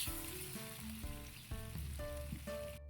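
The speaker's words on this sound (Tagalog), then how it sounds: "pirito siya sa sariling mantika" Adobo pork frying in its own fat, a steady close sizzle that runs the whole time while sustained musical tones play over it.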